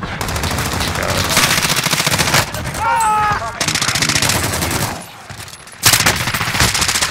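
AMP63 akimbo pistols fire in a video game in long, loud, rapid bursts that cut off briefly between volleys, with metallic reload clicks in a gap and someone talking over the shooting.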